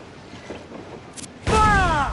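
Ship cannon fire in Assassin's Creed Black Flag: a quiet, murky stretch, then a single loud, sudden blast that rings on with a sustained roar to the end.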